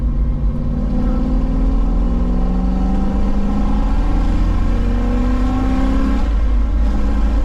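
A 1969 Ford Mustang Fastback V8 revs loud and close, its deep engine note rising in pitch steadily through the rev and then settling back, with no talking over it.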